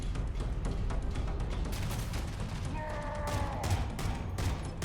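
A rocket launcher and other weapons firing in the Halo Campaign Evolved video game, heard as a run of sharp, booming bursts over continuous game noise, with a brief tonal electronic sound near the end.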